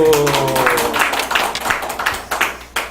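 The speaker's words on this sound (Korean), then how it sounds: "더 크게 박수." A congregation at a church healing service breaks into quick, scattered clapping that follows a brief voice, the claps sharp and close and gradually thinning out.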